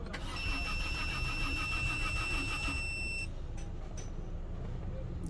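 A Peugeot 407 cranking without starting: the starter motor churns steadily for about three seconds with a high whine over it, then cuts off, leaving faint clicks and quiet.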